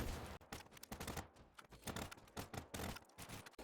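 Rapid gunfire from a Shiva weapon shooting attacking dogs in a custom zombies video game, a dense run of sharp, crisp shots in quick irregular succession with brief gaps, fairly faint overall.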